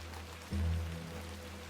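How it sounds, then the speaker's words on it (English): Steady rain patters down in a soft continuous hiss, with a brief low rumble partway through and no voices, in the video game The Excavation of Hob's Barrow. "It's the rain coming down."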